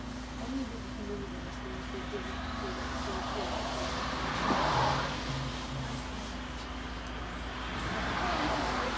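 A city bus rolls through Zagreb, its engine a steady low hum with a gentle rise in revs midway and again near the end, heard from inside the cabin with continuous road rumble.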